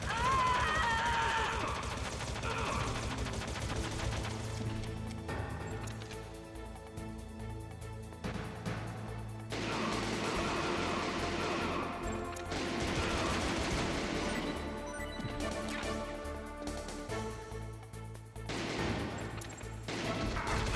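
Dense, continuous gunfire and crashing effects in the PS1 game Metal Gear Solid, loud and sustained over music-like background sound.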